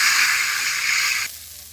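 Spice paste frying in oil in a village Bangladeshi kitchen, a bright hiss and sizzle that cuts off abruptly after about a second, leaving a quieter hum.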